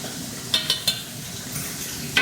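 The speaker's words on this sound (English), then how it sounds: "Our French fries are frying finally." French fries frying in hot oil, a steady crackling sizzle with a few sharp pops and clicks of a utensil.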